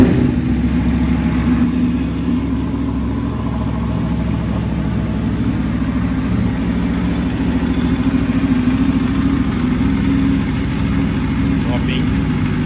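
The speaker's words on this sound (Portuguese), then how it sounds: "Vamos ligar a motoca aqui." A motorcycle idles at a steady, close, loud rumble for the whole stretch, with no clear start-up heard, and faint voices in the background.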